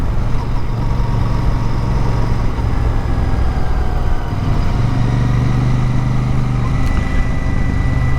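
Royal Enfield Super Meteor 650 motorcycle riding downhill in third and fourth gear, a loud, steady parallel-twin engine drone close up, with a gear change midway and constant wind rush.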